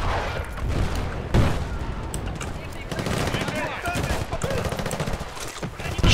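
Machine gun fire in the Battlefield 2 video game: dense, continuous bursts of gunfire with booming impacts, loud throughout, mixed with the game's battle noise.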